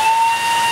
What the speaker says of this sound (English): steam whistle for that one